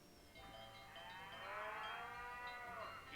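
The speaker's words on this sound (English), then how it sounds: "That's the sound of happy cattle" Cattle moo in a ranch radio advertisement in a Nancy Drew video game, one long, drawn-out bellow rising and falling over a few seconds, moderately close and with no talking.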